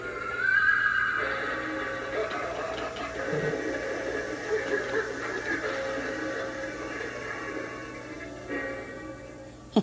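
A battery-powered Home Depot haunted hearse Halloween prop plays a recorded horse whinny, followed by a spooky narrated voice over faint background sound, moderately quiet and close.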